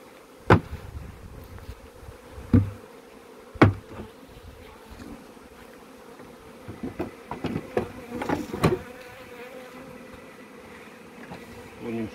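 Honeybees hum and buzz in a steady drone around an open hive during a honey harvest from a two-box hive, with sharp knocks and clatter of frames and lid breaking through at intervals.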